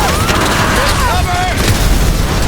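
An explosion in the GTA 5 video game: a loud, sustained rumbling blast with whistling, wavering tones running through it.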